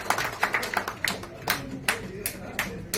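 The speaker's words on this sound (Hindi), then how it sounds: "तालियां।" Audience clapping at a Hindi-language gathering, a scattered run of hand claps with uneven rhythm that mixes with voices and room noise throughout.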